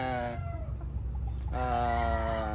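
Selected young pullets kept for breeding clucking and calling close by, with drawn-out harmonic cackles at the start and again after a short lull, over low farmyard background noise.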